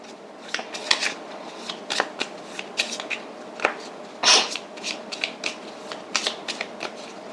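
Tarot cards are shuffled by hand in quick, papery riffles and soft slaps, close and fairly loud, with one denser burst partway through and no talking.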